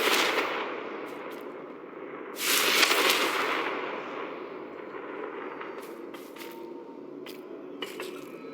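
A Confringo fire spell blast from the Hogwarts Legacy video game bursts out in a single broad whoosh in the middle, then fades into a low ambient rumble with a few faint sharp clicks.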